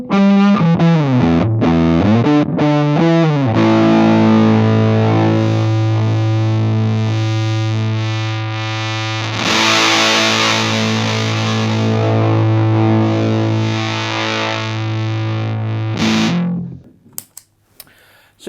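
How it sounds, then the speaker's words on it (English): A cheap Wish fuzz pedal kit distorts an electric guitar with its EQ turned down, giving a thick, muffled buzz. A few picked notes lead into long sustained chords that ring loud before cutting off abruptly near the end. "I could turn the EQ to right down to the bottom as well, just so you can hear what it is muffled"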